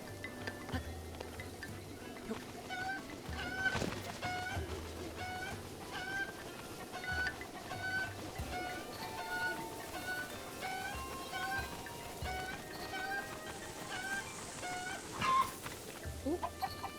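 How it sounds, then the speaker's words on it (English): Chickens cluck over and over in Kakariko Village in Zelda: Breath of the Wild, short repeated calls at a soft, steady level with faint background game sound. "There's the last chicken."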